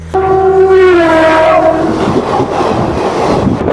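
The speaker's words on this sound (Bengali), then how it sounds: "বিষ্ণুপুর স্টেশনে 3 নম্বর প্ল্যাটফর্মে আমাদের ট্রেন দাঁড়িয়ে রয়েছে।" The Bishnupur–Adra MEMU special train at Bishnupur station platform sounds a loud, sustained horn blast for about two seconds, followed by a heavy, steady rumble of the train.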